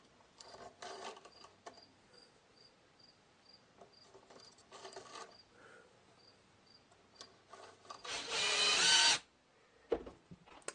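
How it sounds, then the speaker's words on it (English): A small screw driven into a wooden linear glide on a Pantorouter XL build, heard as one near, steady power-driver whir lasting about a second, preceded by scattered quiet handling clicks and taps. "I'm adding one extra little screw here, and that's to prevent the ball cages from accidentally getting pushed out of here"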